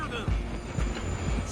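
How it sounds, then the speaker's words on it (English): A steam train in Red Dead Redemption 2 rolls past with a steady rumbling roar and rhythmic low chugging pulses, loud and close, with faint metallic high tones above. "I'm gonna ride ahead and stop the train."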